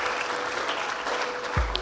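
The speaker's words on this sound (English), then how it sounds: "Please, a round of applause for them." Audience applause fills a hall at a debate championship awards ceremony, steady dense clapping throughout the short stretch with a brief low thump near the end.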